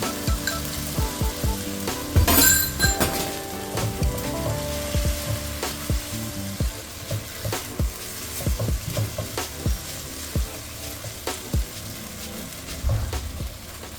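Tofu crackles and hisses in a hot pan after sauce is poured in, a steady, close sizzle with clinks and scrapes from stirring scattered throughout and no one speaking.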